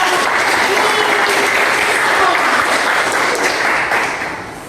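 A school class claps together for a student group in a classroom, a loud, dense, steady burst of applause lasting several seconds before tapering off slightly.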